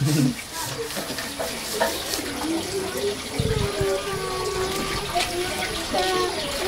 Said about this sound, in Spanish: Cayó agua ya.